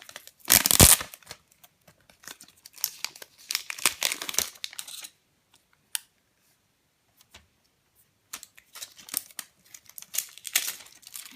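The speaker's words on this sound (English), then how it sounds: "Take the tape off" Packaging and tape being peeled and crinkled off a third-generation Apple TV, with loud crinkling bursts at the start, scattered tearing and rustling, and a quiet pause midway.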